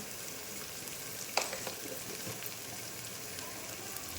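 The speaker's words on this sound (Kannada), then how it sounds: "ನಾನು ಒಂದು ಸ್ವಲ್ಪ ಫ್ರೈ ಮಾಡಿದ್ರೆ ಸ್ವಲ್ಪ ಫ್ರೈಗೆ ಮಾಡ್ತೀನಿ ರೀ" Food fries in a pan with a steady, even sizzle that holds throughout, broken once by a brief sharp clink near the start.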